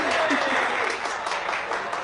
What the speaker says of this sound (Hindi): इनके लिए जोरदार तालियां प्लीज।